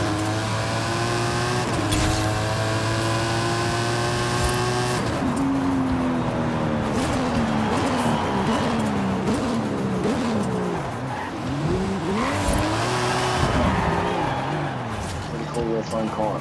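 A TVR Speed 12 with a V12 engine in Forza Horizon 5 revs hard, its pitch climbing and dropping sharply through gear shifts, with tire squeal and racing noise, loud and continuous throughout.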